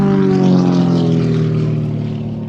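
Propeller-driven aircraft flying low between pylons at the Shuttleworth airshow, a loud, steady droning engine with strong harmonic tones that fades slightly as it passes, heard alone without talk.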